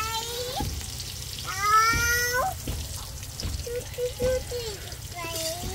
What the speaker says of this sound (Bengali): বেগুনটা আমি একটু ভাজা ভাজা করে তারপরে হলো মাছ দিয়ে দেব।